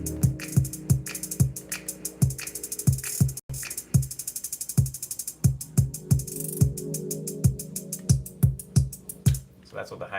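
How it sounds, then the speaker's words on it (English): Drum kit playing a steady beat with a hi-hat pattern, repeated sharp hits with bright cymbal ticks layered over low thumps, loud and close throughout with no talking. "So that's what the hi-hat sounds like."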